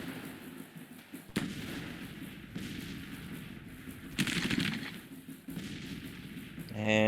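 Massed rifle volleys from a Marine Corps battle line in the Civil War strategy game Grand Tactician, sharp crackling bursts and distant booms over a continuous battle din.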